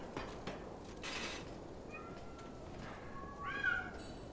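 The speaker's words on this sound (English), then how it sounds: "Why do I hear a cat?" A cat meows in the video game Lies of P, two or three short, tonal calls rising over a quiet ambient bed, with one faint earlier mew and a louder final meow near the end.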